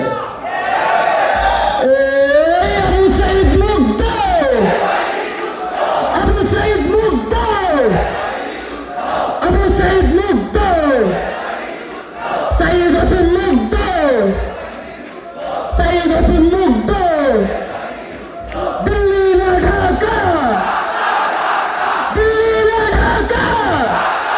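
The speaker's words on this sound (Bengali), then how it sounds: "একটু স্লোগান দেওয়া যাবে?" Crowd at a Dhaka College rally chanting slogans in loud, rhythmic call-and-response bursts, voices surging together with brief pauses between phrases, close and sustained.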